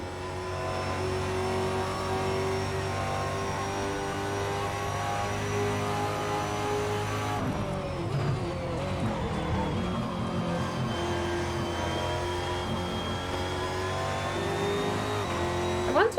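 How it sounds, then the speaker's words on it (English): A loud car in the Assetto Corsa racing game holds a high, droning engine note, dips as the revs shift midway, then climbs again, continuous and close throughout. "A really loud, really loud car."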